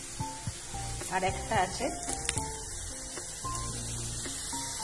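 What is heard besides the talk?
spices frying in oil for mustard fish curry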